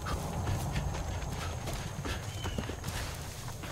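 Horse hooves clip-clop at a steady walking pace in the open-world shooter Far Cry 5, mid-distance and continuous, over a low rumble of game ambience.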